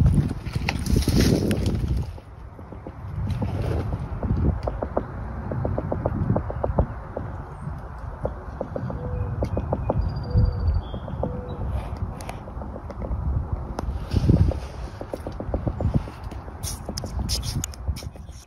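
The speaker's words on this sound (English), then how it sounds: "That sound is coming from inside this tree." Strange tapping from inside a tree branch, sounding in bursts of quick, irregular knocks that stop and start, set against rustling outdoor background noise.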